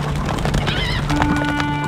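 A horse whinnies loudly over a busy Stronghold Crusader game soundscape, with clip-clopping hooves and a low hum beneath.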